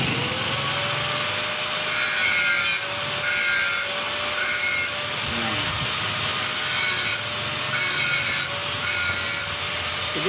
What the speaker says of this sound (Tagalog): Ngayon gagrinderin natin yan.